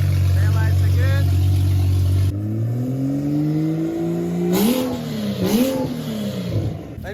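A straight-piped BMW M235i with an N55 engine, exhaust removed but downpipe kept, idles loudly and then revs up twice in quick rising blips close by, with a person talking over it.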